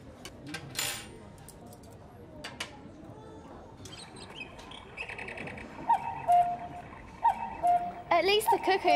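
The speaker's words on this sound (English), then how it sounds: "At least the cuckoo clock's all right." A cuckoo clock in a cafe sounds a series of short, bright, repeated tonal calls toward the end, preceded by quieter clinks and rustling in a children's show setting.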